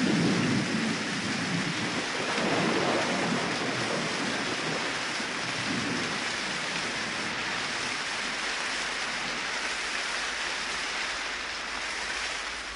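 Heavy rain and thunder in Africa, a dense continuous hiss of downpour with a low rolling rumble early on, steady and enveloping throughout with no voices.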